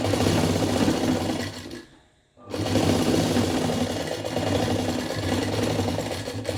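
A sewing machine with a single presser foot stitching thread piping, a rapid steady mechanical chatter that stops briefly for a short pause and then resumes, close and alone.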